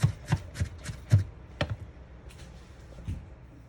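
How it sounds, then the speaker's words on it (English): A knife chops onions on a cutting board in a quick run of sharp, close taps that thin out and become sparser toward the end, heard on their own. "That's how you chop onions when you're crying."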